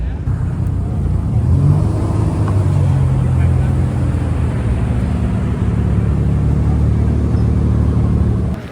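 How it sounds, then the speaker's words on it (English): Camaro ZL1 engines idling at a Miami street car meet, a loud continuous low rumble close by, steady throughout with a faint crowd murmur underneath. "Are you hearing that idle, guys?"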